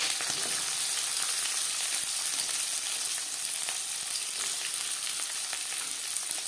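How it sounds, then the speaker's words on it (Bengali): Chopped onions and slit green chillies fry in three spoons of hot refined oil, making a continuous dense crackling hiss with faint stirring ticks and no voice over it. "3 চামচ রিফাইন্ড অয়েল গরম করে নেওয়ার পর দিয়ে দেব পেঁয়াজ কুচি,"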